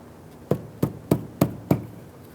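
A plastic trim tool prying at a plastic bumper push pin on a 1999-2004 Jeep Grand Cherokee: five sharp, evenly spaced knocking clicks at close range, with no talk.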